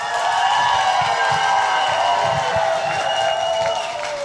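Wedding guests applaud for the first bridesmaid, a dense, steady wash of clapping and crowd noise that fills the room at full loudness for several seconds, with voices and music mixed in.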